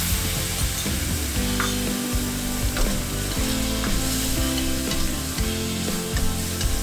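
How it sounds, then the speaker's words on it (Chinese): Minced beans are stir-fried in a wok for a Chinese dish, giving a loud continuous sizzle with repeated scraping and clanking of the spatula against the metal at an uneven rhythm. "翻炒30秒断生"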